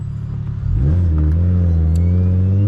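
A single-turbo BMW 335is with a modified exhaust idles, then revs up sharply and holds a loud, droning, raspy tone, close and with no talk.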